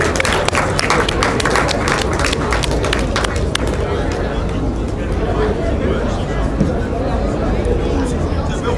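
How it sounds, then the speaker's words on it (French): Enthusiastic audience ovation at a Malian university debate match, loud dense clapping mixed with crowd chatter and cheering that is strongest early and settles into steady clapping with murmuring. "une avalanche d'ovations pour eux"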